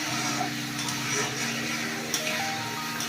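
Onion frying in a pan makes a soft, steady sizzle with faint clicks of stirring and a low hum underneath, and nobody speaks.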